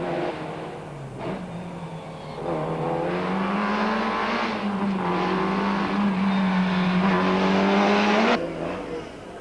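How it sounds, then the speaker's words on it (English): A rally car at the 1994 Castrol International Rally tearing along a special stage through the streets of downtown Ermelo, its engine revving hard and climbing through the gears, loud and close, with a shift and tire squeal before a sudden cutoff. "Stage 1 takes the cars on a 10-kilometer sprint through the streets of downtown Ermelo."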